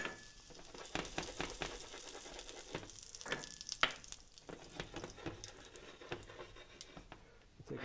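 Sage brown butter sizzles in a pan on a stovetop, a soft, continuous crackle and patter with scattered pops and light stirring scrapes, fairly quiet and close, with no talking.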